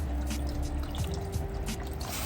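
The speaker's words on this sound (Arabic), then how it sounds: "زيدوا نصبوا عليه شوية ماء" Water pours into a pot of meat and tomato for Tunisian couscous, a short splashing, trickling burst with no voices over it.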